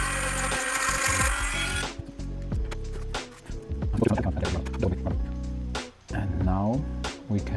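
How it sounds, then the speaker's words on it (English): An electric drill whirs in short bursts while modifying a radio transmitter for an antenna, its pitch rising and falling as it spins up and slows, with clattering handling noises between runs. "let's get the drill out once again"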